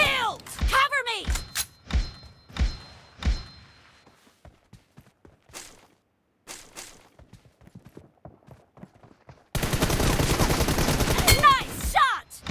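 Video-game gunfire in a 1v1 match: sharp, loud shots crack out in quick bursts, then scattered lighter pops and thuds, ending in a dense stretch of continuous rapid firing.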